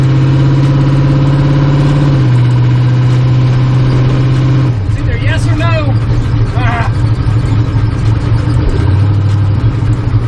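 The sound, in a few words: LS turbo truck engine running during a test ride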